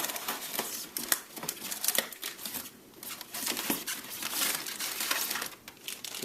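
Sharp crinkling and tearing of cardboard and plastic packaging as a box insert is cut free while unboxing a Flyzone Micro B-25 Mitchell RC plane, close and fairly loud in irregular bursts with no talk.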